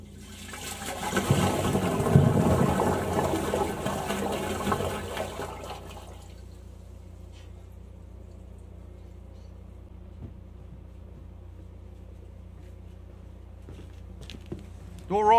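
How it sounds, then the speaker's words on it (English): A toilet flushes with a loud, rushing gush of water that swells and then drains away after several seconds into a quiet trickle, heard near a blocked drain being cleared with a jetter. "I'll go around and flush that dunny, see how she's going."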